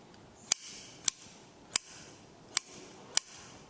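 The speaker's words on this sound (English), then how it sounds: "Just going to trim off a couple of these sticky uppy roots at the moment." Five sharp, crisp snips of bonsai scissors trimming roots at a steady, unhurried pace, close and clear against a quiet background.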